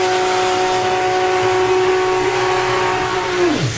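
A VW drag racing car at a Bug Jam drag strip, its engine screaming at a loud sustained high pitch before the tone drops sharply as it launches away.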